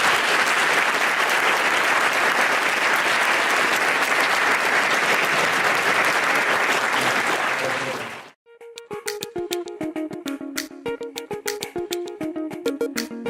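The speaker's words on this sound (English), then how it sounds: "let's give Sheldon a round of applause" A corporate audience gives a full round of applause for a presenter: dense, loud clapping holds steady, then cuts off abruptly and gives way to scattered, individual claps near and far.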